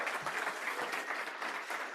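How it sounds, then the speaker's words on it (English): An audience claps steadily for design students at a student merit awards event, a dense, even wash of applause that fills the whole stretch with no speech over it. "So I would say one more round of applause for them."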